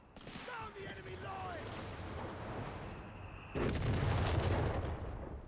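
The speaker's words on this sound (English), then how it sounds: "Oh, double AT gun." Anti-tank guns and heavy artillery firing during a Company of Heroes 3 battle, with booming blasts and rolling gunfire rising into a dense loud barrage, while a voice talks over the noise.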